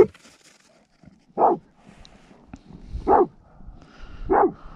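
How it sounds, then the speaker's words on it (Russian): A dog barking outdoors near a pike ice-fishing spot in March, three separate mid-distance barks spaced about a second and a half apart against a quiet background. "Даже непонятно, на кого лает."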